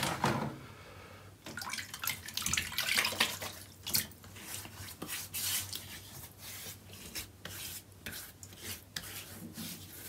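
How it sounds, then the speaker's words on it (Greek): Water from a tap splashes and runs as hands wet the face before a shave, close and fairly quiet, with irregular splashes and rubbing over a steady running stream and no talking. "απλά θα βρέξω το πρόσωπό μου"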